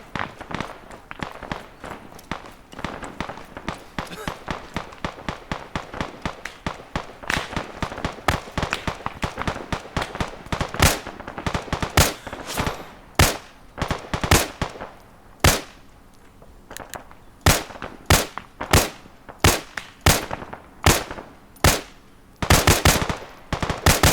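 Rapid automatic gunfire from a video game, set in a 1993-style raid on an oil compound, starting as dense continuous bursts and then breaking into loud, evenly spaced single shots with short gaps between them.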